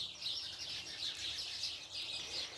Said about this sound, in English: See, the birds got excited about that one.